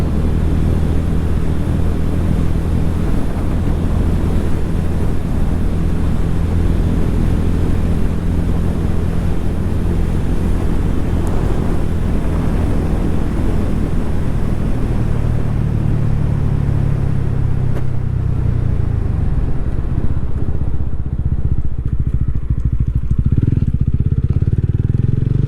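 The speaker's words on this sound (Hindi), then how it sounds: "चलो थोड़ा भगाते हैं बाइक को।" A motorcycle revs and accelerates along a rural road in Assam past villages and tea gardens, its engine roaring loud and steady close by, rising then easing near the end.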